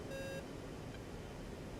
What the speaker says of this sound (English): Oh yes, continuous beep.